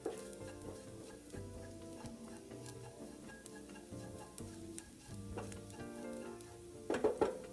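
Dried shrimp and minced garlic stir-fry in a wok with a faint, steady sizzle and soft stirring under background music, ending in a few louder spatula clinks.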